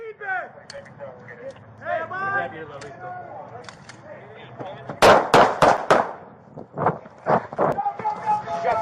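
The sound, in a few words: bean bag shotgun shots fired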